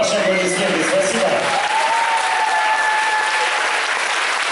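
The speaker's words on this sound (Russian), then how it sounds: "Ваши аплодисменты" An audience at a concert by the ensemble Kamerton in Omsk in December 2017 breaks into sustained, dense applause. A faint voice and tonal traces linger at first, then the clapping continues evenly.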